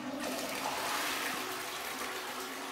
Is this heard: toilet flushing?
yes